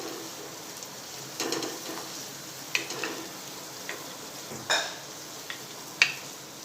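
About a teaspoon of crushed garlic sautés with onions in a pan, giving a low, steady sizzle broken by occasional clicks and scrapes of a spoon stirring against the pan, close and fairly quiet.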